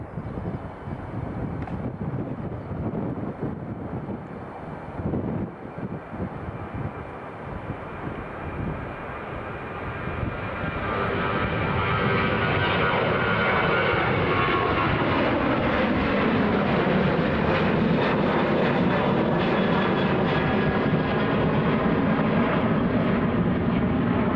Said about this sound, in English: here is Ryanair just going. Ryanair 738